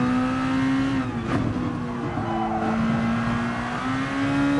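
Race car engine in a racing video game on the Barcelona track, a steady sustained drone that holds at a constant pitch, dips slightly midway, then climbs again as the car accelerates, loud and continuous with no talk.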